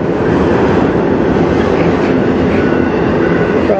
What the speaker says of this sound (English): we got a train going the other way